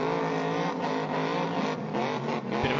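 Car at a Summernats burnout competition holding a loud, sustained high-rev engine roar through a burnout, with a supercharger whine and harmonic engine tones running steadily with slight dips throughout.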